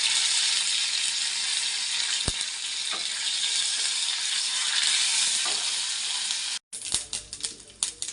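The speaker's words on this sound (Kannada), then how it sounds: "ಆಮೇಲೆ ಕರ್ಬೇವಿನ ಸೊಪ್ಪು ಹಾಕೋತಾ ಇದ್ದೀನಿ." Curry leaves sizzle in hot oil with mustard seeds for a tempering, a loud, steady frying hiss that cuts out abruptly and resumes with sharp crackles and pops.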